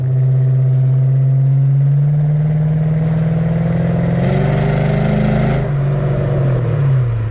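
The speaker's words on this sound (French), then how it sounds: "on entend bien que c'est pas l'échappement d'origine" A Chrysler 300C with a V8 Hemi and aftermarket exhaust drives along, its loud, close, droning engine note holding steady, then climbing in pitch before easing back down.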